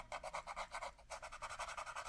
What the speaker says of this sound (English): So I'll just do a little more sanding.